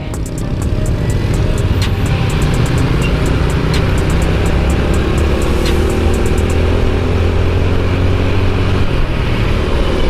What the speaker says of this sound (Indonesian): Mobil gede coy.